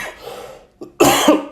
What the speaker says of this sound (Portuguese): estou com um pouquinho de tosse hoje